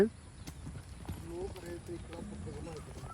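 A horse's hooves clip-clop steadily on the ground during a sending exercise in training, heard close beneath someone talking throughout.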